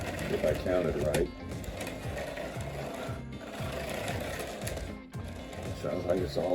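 A Rivarossi AHM model train locomotive motor runs with a steady, close mechanical whir and rattling, briefly dipping and starting again, while someone talks over it.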